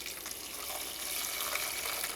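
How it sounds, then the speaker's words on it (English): Dissolved lye solution poured onto hard oils and butters while making lavender cream soap: a quiet, steady liquid stream splashing gently into the container for a couple of seconds, with no talking. "My lye is dissolved, and I'm going to pour it onto my hard oils and butters."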